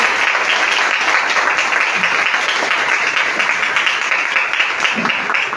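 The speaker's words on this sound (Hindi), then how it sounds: "जोरदार तालियां हम बजाएंगे।" Loud, sustained applause from a church congregation during a Lent service in Pakistan, dense clapping filling the whole stretch at close range with no speech over it.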